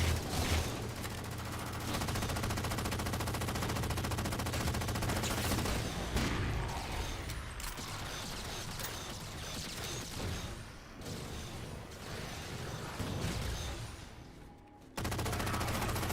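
Sustained automatic gunfire in Halo: The Master Chief Collection, rapid bursts of shots firing almost continuously with short gaps and a sudden stop and restart near the end, no talking.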